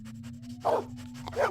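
Dog whimpering in the Blade Runner video game: a few short, high whines and yips close by over a low steady hum, with no speech.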